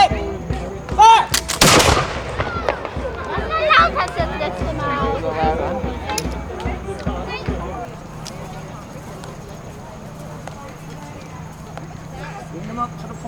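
A cannon volley booms out at an 18th-century Battle of Brooklyn reenactment, one loud blast at the start followed by rumbling echoes, with outdoor crowd murmur and hoofbeats around it.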